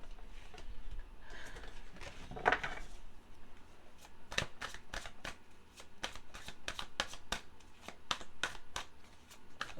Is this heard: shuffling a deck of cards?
yes